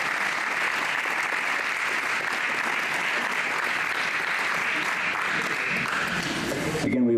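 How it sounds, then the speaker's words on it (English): A large audience at a veterans memorial celebration applauds the musicians, producing steady, dense clapping that fills the whole stretch at an even volume and ends abruptly. "please give a round of applause for the amount of work these musicians have done"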